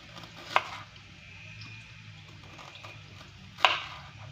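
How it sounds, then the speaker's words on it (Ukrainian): Two sharp knife chops strike a cutting board while slicing small onions into rings, about three seconds apart, close and crisp against quiet background. "Також я поріжу ось таких дві цибулинки невеличких кільцями."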